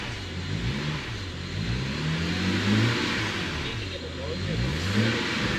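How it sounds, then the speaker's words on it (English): A BMW E90 335i with the N54 engine and a new Walbro fuel pump revs up twice from idle, the engine note climbing and falling back each time, close and steady throughout. "Do you want to just give it a rev, Deckers?"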